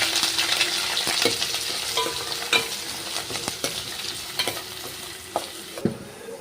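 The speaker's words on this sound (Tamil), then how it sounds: "ஆனியன் நல்லா பிங்க் கலரில் ஃப்ரை ஆகிடுச்சு" Chopped onions fry in oil in a kadai, a bright steady sizzle punctuated by stirring scrapes and light spoon knocks, close up with no talk.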